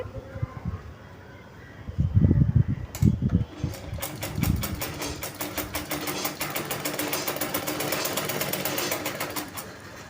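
Sewing machine stitching window mesh netting along its edges and corners, a steady rapid mechanical whir of needle strokes after a few soft knocks and handling thumps, close and continuous.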